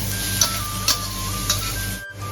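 Dried chilies roast in a pan for an old-style chili paste with minced pork, giving a steady sizzle with a few soft stirring scrapes and a brief drop near the end, close and moderately loud.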